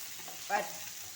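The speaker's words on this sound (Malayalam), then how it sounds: "ഉള്ളി വാടി ബ്രൗൺ ആയിട്ടുണ്ട്" Onions browning in a pan for Kerala chicken roast, a faint steady sizzle with one short stirring scrape in the middle.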